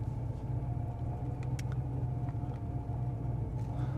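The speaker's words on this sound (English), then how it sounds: "It's about as menacing as you can get, the sound of this automobile." A Yenko Camaro engine idles with a deep, steady, menacing rumble, close and continuous throughout.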